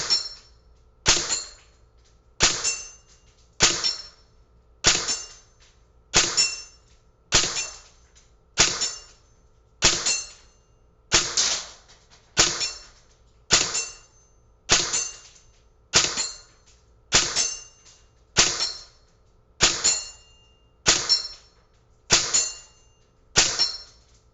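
Airsoft rifle, a VFC BCM MCMR, fires about twenty evenly spaced single shots at a 3.5-inch metal target 22 yards away, each sharp pop followed by a ringing metallic hit, steady rhythm, no talking.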